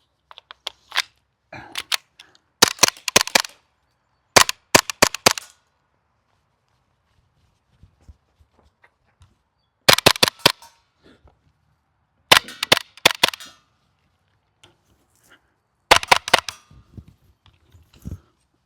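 A Raptor SR-2M airsoft gas blowback rifle fires on semi-auto in short clusters of sharp, snappy cracks, several quick shots per string with quiet gaps between them.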